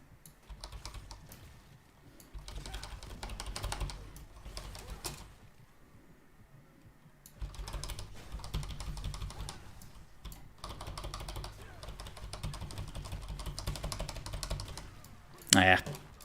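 Rapid, clattering computer keyboard keystrokes come in bursts during Lost Ark PvP play, loud and close, with a brief pause midway before the fast typing resumes.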